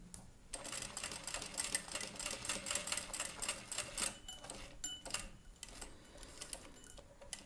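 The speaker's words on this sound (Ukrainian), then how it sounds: "Прокладаємо строчку до голки." A sewing machine runs steadily, stitching along a checkered patchwork strip of fabric in a busy, continuous mechanical whir with rapid ticking, then slows and stops briefly near the end with a few short bursts.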